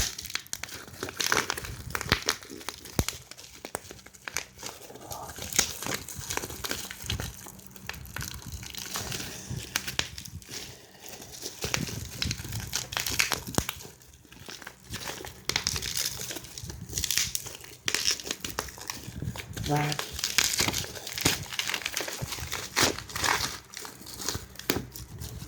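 Packaging of a TUA pocket wifi box crinkles and crumples continuously as it is opened and handled up close, with rustling, tearing-like bursts and no talk.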